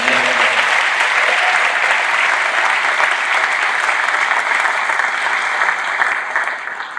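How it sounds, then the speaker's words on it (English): A concert audience at a school wind symphony and eighth-grade band performance applauds loudly for the band, a dense, sustained roar of clapping that holds steady and begins to fade at the very end. "Would you give them a round of applause?"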